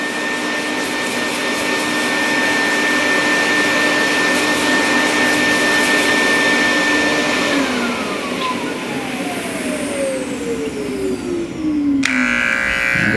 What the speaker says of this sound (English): Have a vacuum.